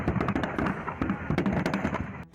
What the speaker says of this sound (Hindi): एक दुकान में पटाखे अवैध रूप से छुपा कर रखे गए थे, जिनमें अचानक आग लग गई